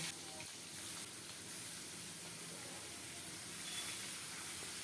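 Two small rohu fish heads coated with salt and turmeric frying in hot oil, a steady, faint, hissing sizzle running evenly throughout.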